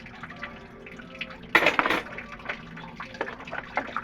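Tap water runs quietly into a sink while dishes are washed, with soft splashing, light clinks of plates and a brief louder gush in the middle.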